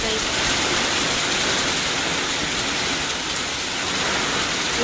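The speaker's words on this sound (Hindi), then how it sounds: "ज़्यादा ही बारिश कर रहा है, बहुत मौसम खराब हो गया" Heavy rain pours steadily during a spell of bad weather at home, a dense, loud, unbroken hiss that fills the whole stretch without letup.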